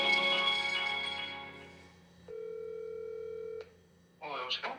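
A telephone ringback tone sounds while calling an acquaintance: one steady, even tone lasting about a second, heard alone after earlier talk fades and before a voice picks up.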